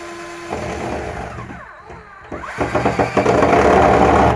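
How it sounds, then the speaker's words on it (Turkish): A power screwdriver drives small screws into kitchen cabinet hinges, with a whirring motor that stops and starts, then a rapid run of pulsing bursts near the end. "Şimdi vidalıyorum."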